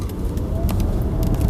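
Inside a NIO ES8 electric SUV accelerating hard on a bumpy road, a steady, dense low rumble of road and cabin noise continues throughout with faint brief rattles and no voices.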